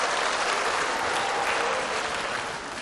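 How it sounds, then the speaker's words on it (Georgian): A studio audience at a televised celebrity dance show claps in a dense, steady roar of applause that stays loud and even throughout, easing slightly at the very end. "უფრო მხურვალე აპლოდისმენტები თუ შეიძლება."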